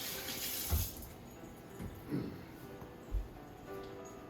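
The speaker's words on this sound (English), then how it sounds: "I gotta have to wash my hands." Hands washed under a running kitchen tap: a soft steady stream of water with occasional splashes and thumps as the hands move through it, quiet and close.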